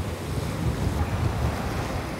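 Waves break against a groyne head on the coast of Norderney, a steady, loud surf roar mixed with gusty wind noise buffeting the microphone, with no one speaking.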